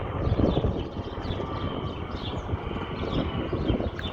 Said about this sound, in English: It's a little Cessna, I think.